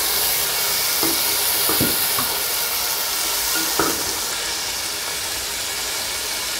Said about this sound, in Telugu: ఇప్పుడు ఈ టమాటా ప్యూరీ ఇవన్నీ వేగినాయి.